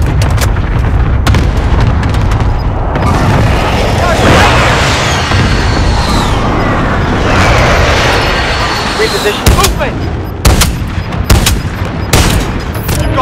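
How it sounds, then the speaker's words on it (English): Precision airstrike in a war video game: dense, loud rumbling blasts and booming impacts fill the whole stretch, with sharper bursts near the end and game voices talking over the din. "Be advised, friendly precision airstrike inbound."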